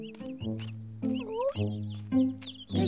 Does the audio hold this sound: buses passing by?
no